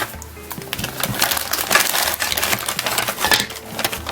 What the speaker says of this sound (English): Let me go ahead and cut this bag open.